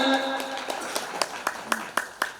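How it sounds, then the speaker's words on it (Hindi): Audience clapping at an Arya Samaj gathering in Barh, a series of sharp claps in an uneven rhythm that grows more distinct toward the end, with a faint tonal background fading out at the start. "एक बार जोरदार ताली"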